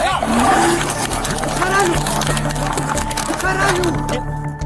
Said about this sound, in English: Within seconds, officers were chasing a Lamborghini, hitting speeds of 113 miles per hour.